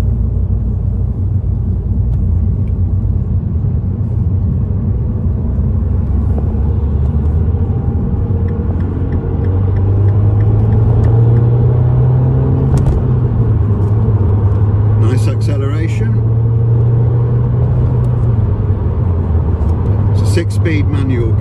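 A 2007 Mini Cooper S with a 1.6 litre petrol engine and manual gearbox gives a loud, continuous rumble from inside the cabin. The engine note rises and holds higher midway as it accelerates, with occasional light clicks and knocks over the drone.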